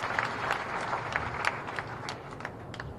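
Steady applause from a seated audience welcomes historian Pandurang Bakode at a Peshwa Bajirao I birth anniversary tribute in Rawerkhedi, Khargone, a dense patter of hand claps held at moderate level through the whole stretch.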